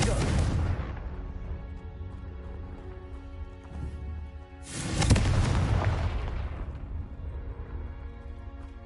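Two magical blast explosions from the Confringo spell in the Hogwarts Legacy game, each a loud booming burst followed by a long rumbling decay, the second about four seconds after the first.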